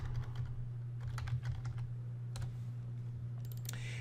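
Quick bursts of keystrokes on a computer keyboard type out a file name, close and crisp, in short irregular clusters over a steady low electrical hum.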